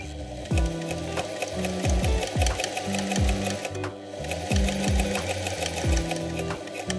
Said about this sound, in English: Once that's done, stitch the seam to close the hole